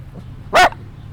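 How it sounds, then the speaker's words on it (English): A dog lets out a single loud, close bark, one short burst standing out above a quiet room. "He don't be barking like that."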